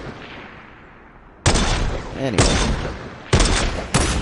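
Gunfire in a shooting video game comes in loud bursts of rapid shots, separated by brief quieter gaps, with a voice speaking briefly between the volleys.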